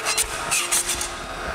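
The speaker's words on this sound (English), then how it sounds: "I can use this scraper." A scraper pries a 3D-printed model off an Anycubic Ultrabase glass bed in several short, close rasping strokes. No one speaks.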